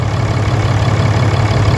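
Ram 2500 Cummins diesel engine idling after an oil and filter change, a loud, steady low-pitched rumble close by.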